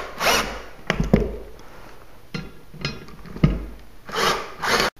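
Screws into shelf brackets mounted on drywall are driven tight with a hand tool, giving several rasping, grinding turns in uneven bursts with brief clicks between, close by and without talk.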